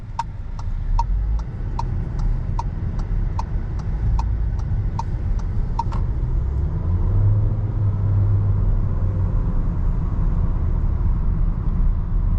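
A 2022 VW Taos SUV driving on the road, heard from inside the cabin as a steady low engine and road rumble, with a regular ticking like a turn signal clicking for the first six seconds.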